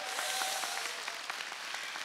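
A studio audience at a televised Korean singing contest claps for a pair of singers, giving a short burst of steady, moderately distant applause.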